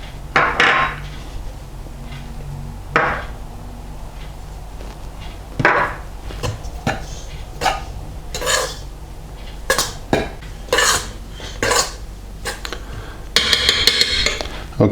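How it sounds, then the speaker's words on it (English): Dry bread ingredients for a Pullman sandwich loaf being combined in a mixing bowl: irregular clinks and scrapes of a utensil against the bowl, with occasional sharper taps, close and moderately loud. "combine all of the dry ingredients together in the mixing bowl to make sure everything is combined"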